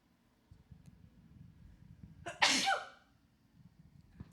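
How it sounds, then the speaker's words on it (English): A woman with spring allergies sneezes once, a sharp sudden burst close to the microphone that trails off quickly, after a quiet stretch of faint rustling and clicks. "Oh my gosh, I feel like I'm going to sneeze"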